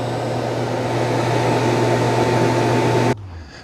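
A Dreame L40 Ultra or Roborock Q Revo Curv robot vacuum dock empties the dust bin with a steady, fairly loud whirring hum that runs evenly for about three seconds, then cuts off abruptly and winds down.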